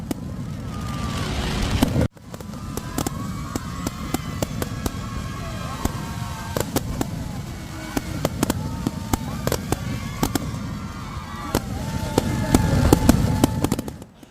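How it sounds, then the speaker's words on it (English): Firecrackers cracking and popping across the night sky in Ranchi during a cricket celebration, sharp repeated bursts over a constant crowd and traffic rumble, with a siren-like wail and voices mixed in. "firecrackers lit up the night sky in Ranchi"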